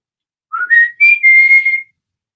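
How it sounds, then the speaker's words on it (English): A person whistles a special call signal: a short two-part rising whistle, clear and close, lasting under two seconds in a quiet room. "we have a special whistle that we do that means either, where are you?"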